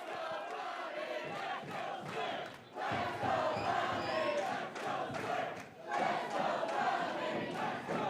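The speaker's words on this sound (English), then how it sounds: "Listen to the crowd." A wrestling arena crowd at an independent show roars and chants continuously, loud and dense, swelling and dipping in waves with shouts rising out of the mass of voices.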